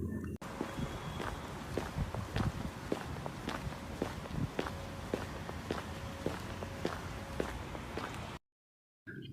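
Cartoon wolf's footsteps heading into a jungle, a steady run of soft, evenly paced steps over faint ambient noise, ending in a brief silence.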